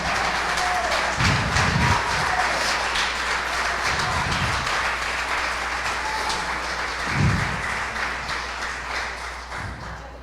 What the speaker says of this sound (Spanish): Si le va a dar un aplauso, désele con todo el corazón en esta noche.